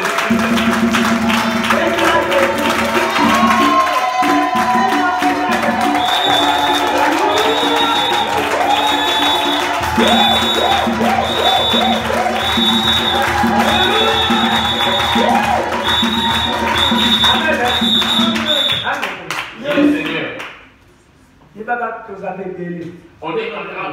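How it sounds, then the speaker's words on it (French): A church congregation applauds for Jesus Christ, a large crowd clapping steadily under a preacher's amplified voice and music, with cheers mixed in before the applause fades out near the end. "Applaudissons pour Jésus-Christ."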